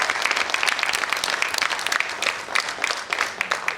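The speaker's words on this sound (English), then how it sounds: "the chairman deserves a standing ovation and a proper round of applause" Audience at a Nigerian induction ceremony gives the chairman a standing ovation, with dense, sustained applause and clapping filling the room at a steady, loud level throughout.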